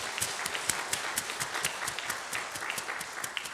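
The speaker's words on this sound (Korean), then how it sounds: "자, 우리 큰 박수로 한번 환영하도록 하겠습니다" A church congregation claps to welcome new members, a brisk, even patter of many hands heard from a distance, fairly faint and continuous.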